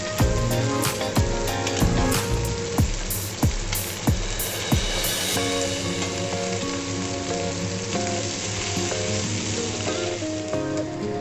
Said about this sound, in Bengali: 1 পিঠ মাছ ভালো করে ভাজা হয়ে গেছে, এবার আমি অপর পিঠ উল্টে দেব